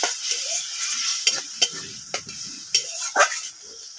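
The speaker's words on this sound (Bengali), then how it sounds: "এটা দিয়ে ভালো করে কষিয়ে নেব।" Egg curry spices with turmeric and salt sautéed in a pan, a steady hiss of sizzling oil broken by several sharp scrapes and taps of a spoon stirring, close up.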